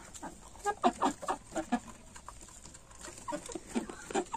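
Roosters clucking in short bursts nearby, several birds chattering irregularly over a quiet background.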